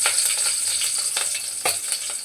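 Green chillies drop into hot oil and sizzle steadily, a close, bright hiss broken by several sharp crackling pops and spits, with no talking.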